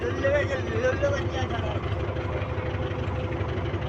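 A tractor engine runs steadily close by, a loud, low, throbbing rumble with a constant hum that holds evenly from start to finish, with voices talking underneath it.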